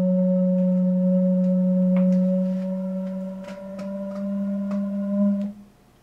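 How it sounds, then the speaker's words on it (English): A stopped organ pipe sounds a steady, pure tone while its stopper is moved up and down to tune it, with faint wavering and small knocks and shuffles from the handling, ending abruptly. "Stopped pipes, like this one, are tuned by moving the stopper up and down."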